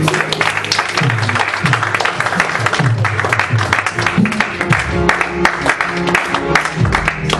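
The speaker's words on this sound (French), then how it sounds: "Applaudis le Seigneur encore une fois" A church congregation applauding the Lord at the close of a Sunday service, loud continuous clapping over low sustained voices or music that runs throughout.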